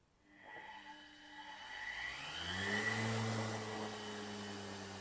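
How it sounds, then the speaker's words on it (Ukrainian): A washing machine's collector motor, run through a speed controller with reverse, spins up with a whirring hum that climbs steadily in pitch and then holds a strong, even drone, close and alone. "Збавляю оберти, перемикаю реверс і знову газу."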